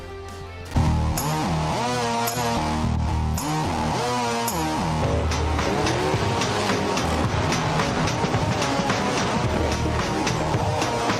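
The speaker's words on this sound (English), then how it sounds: "they have a limited late model class in which they call Street Stock, and we'll see them in action" Street stock limited late model race cars race at Bowman Gray Stadium, a loud, continuous roar of several engines revving and shifting together, with occasional tire squeal.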